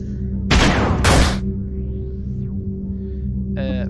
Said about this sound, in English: Shoot him with your gun.